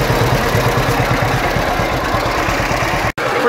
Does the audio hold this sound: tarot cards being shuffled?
no